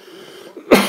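A single short, forceful cough to clear the throat bursts out near the end after a brief quiet, close and fairly loud.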